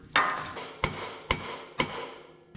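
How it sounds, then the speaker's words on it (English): A small hammer drives a chisel to knock a rusted brake rotor loose on a Chevy S-10 pickup, giving four sharp, close metallic strikes spaced evenly with a brief ringing decay after each. "Little hammer and chisel."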